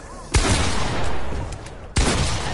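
Gunfire in a PS4 video game: two loud, sharp shots about one and a half seconds apart, each followed by a noisy rumbling tail.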